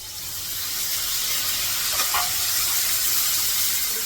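Vegetables sautéing in peanut oil on a home stove, a steady close sizzle with a soft hiss that holds evenly throughout.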